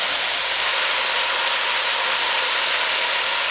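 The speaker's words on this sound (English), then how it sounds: "I'm going to saute this a little." Onions sautéing in a pan on turned-down heat for chicken tortilla soup, a steady, even hiss of frying that holds constant throughout with no talking.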